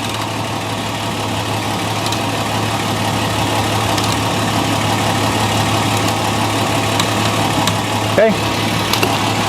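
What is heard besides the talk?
2006 Toyota Tundra V6 4.0L engine idling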